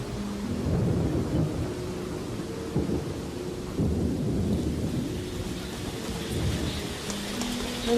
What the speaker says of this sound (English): An afternoon shower diffuses the tension.